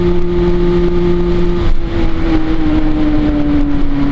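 A Derbi Senda 50cc motorbike engine buzzes loudly and steadily, its pitch dipping briefly at a gear shift before climbing again.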